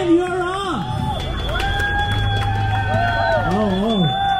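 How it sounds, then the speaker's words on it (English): A crowd cheers at the start of the Purple Parade community event in Singapore, a steady outdoor roar of many voices with shouts and some nearby talk over the din. "A big cheer!"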